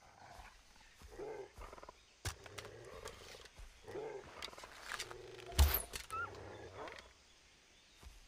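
Big cat roar from a tiger or wolf in the Far Cry 3 jungle, rising to one loud close burst amid scattered game noises and short bursts of speech.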